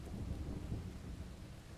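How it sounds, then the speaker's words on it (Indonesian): Thunder rumbles low and steady under a wash of rain, a deep, continuous roll at moderate loudness with no voices. "aku terbangun karena kaget mendengar suara petir yang menggelegar terdengar menembus langit-langit kamarku"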